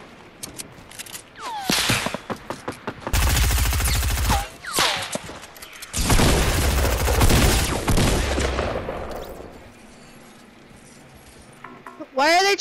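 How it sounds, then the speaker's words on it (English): Rapid bursts of gunfire ring out in a Fortnite Battle Royale match, with loud sustained volleys and sharp single shots between them, set among game sounds. "Why are they trying to shoot me out of the sky?"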